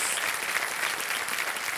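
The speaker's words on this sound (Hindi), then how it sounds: "ताली बज जाए स्टेनोग्राफर के लिए।" Studio audience applause for a stenographer on the Kaun Banega Crorepati quiz show set, a steady, fairly loud burst of many hands clapping that fills the whole moment.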